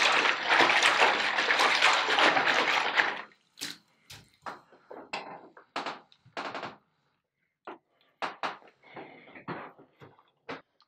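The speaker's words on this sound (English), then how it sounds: "I washed my saxophone in the bath and placed a bath mat at the bottom so that it would not scratch the saxophone" Water runs steadily into a bathtub as a saxophone is washed over a bath mat. After a few seconds the flow stops, leaving irregular splashes, drips and knocks of the wet instrument against the tub.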